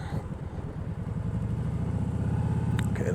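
A motorcycle engine revving hard with too much throttle on gravel, a loud, close, throbbing low drone that holds steady and builds slightly, with no talk.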